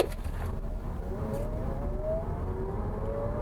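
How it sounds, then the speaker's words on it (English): A Chevrolet Bolt EV in sport mode launches hard from a standstill, its electric motor whine rising steadily in pitch over constant road and cabin noise, with no voices. "Let's do a quick launch."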